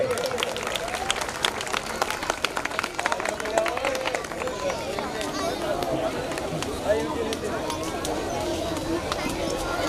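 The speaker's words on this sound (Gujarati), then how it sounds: "થોડી તાળીઓ થઈ જાય." A crowd at a students' award ceremony claps with steady, dense applause, with a voice speaking over it.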